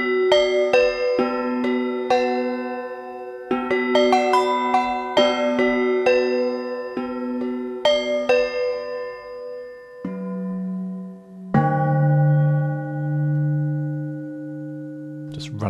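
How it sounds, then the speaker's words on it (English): Mystic Bells from the Heavyocity Symphonic Destruction library ring out in clustered metallic strikes with long shimmering decays, then shift to lower sustained bell tones that swell and hold near the end. "And then Mystic Bells."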